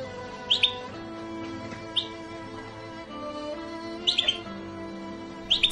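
A bird chirps in short, bright bursts at intervals of a second or two, repeated tweets heard clearly over a steady low hum with no voices.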